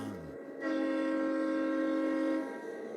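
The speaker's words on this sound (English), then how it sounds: "We got more train sounds coming your way because this thing's leaving." Train sound effect of a departing train: a low rumble, then a loud sustained horn blast that holds for about two seconds before cutting off, leaving the rumble.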